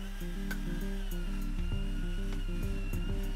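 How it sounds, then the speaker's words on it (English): A makeshift tabletop belt sander runs continuously with a steady motor hum while bass wood edges are pressed against the belt in irregular, rubbing passes close by. "So this is the poor man's tabletop belt sander."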